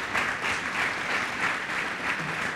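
Audience applause at a web development workshop, a soft, steady wash of clapping heard from a distance without speech over it.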